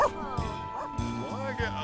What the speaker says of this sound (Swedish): En skällande hund.